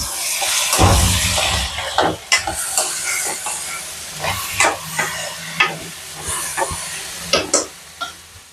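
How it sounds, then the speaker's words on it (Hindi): Vegetables fry in a pan with red chili, turmeric, coriander and salt, giving a steady hiss and sizzle while a utensil stirs and scrapes in repeated sharp clatters, close by in a home kitchen, with no talk. "लाल मिर्च हल्दी धनिया ये सब डाल के मतलब नमक डाल के भून दिया"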